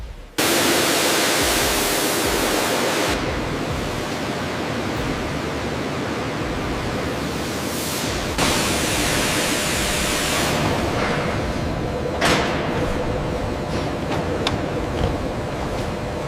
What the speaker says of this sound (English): The process begins with a high-pressure wash, carefully applied to the hide while avoiding the horns.